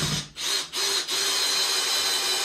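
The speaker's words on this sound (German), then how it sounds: "wir kommen und schrauben die Schrauben rein." A power screwdriver drives screws into a wall mount for a Dyson V15 Detect cordless vacuum, giving a loud, continuous whir with two brief dips early on.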